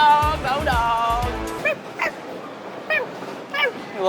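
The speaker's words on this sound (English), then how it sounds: "A little yappy dog, like a chihuahua." A little yappy dog like a chihuahua, heard during a bowling game: a burst of shrill, whiny yapping, then four separate sharp yips spaced across the next few seconds over a steady background hum.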